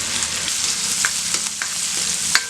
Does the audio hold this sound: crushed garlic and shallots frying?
yes